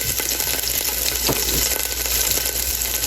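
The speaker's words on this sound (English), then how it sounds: "I'm going to just saute the potatoes." Potatoes sauté in a pan, producing a dense, loud, continuous sizzle and crackle up close, with no voices over it.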